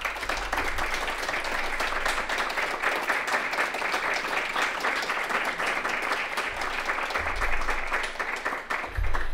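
Audience at a film festival prize ceremony applauding the documentary award winners with sustained, even clapping from a large hall crowd, holding steady for several seconds with a few low thumps near the end.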